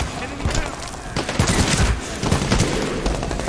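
Machine gun bursts and scattered gunfire from the shooter game Medal of Honor Warfighter, loud rapid cracks repeating across the whole stretch with dense battle noise underneath.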